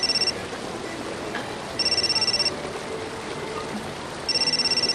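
A telephone rings in three bursts of electronic trills, each lasting under a second with long pauses between, heard indoors over a low background hiss.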